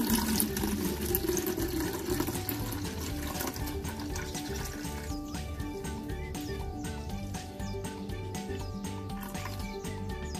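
A liter of rice water poured from a container for a lactic acid bacteria serum, a loud, continuous close gurgling stream of liquid that keeps going steadily throughout.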